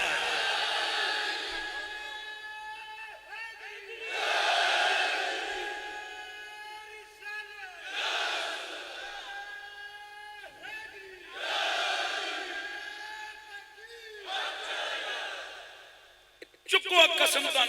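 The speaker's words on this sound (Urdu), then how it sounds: "جس پاور کے ساتھ ان عاشقان مصطفیٰ نے مولا حیدر کا نعرہ بلند کیا ہے" A large crowd of devotees chants the slogan of Mola Haider at a religious gathering in Muzaffarabad, Azad Kashmir, in loud repeated bursts of shouting that rise and fall about every four seconds.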